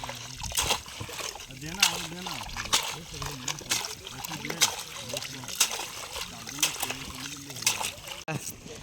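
A large Sundarbans crab is being washed by hand, with repeated splashes and sloshing water in short bursts roughly every second, close by, while a person talks over it.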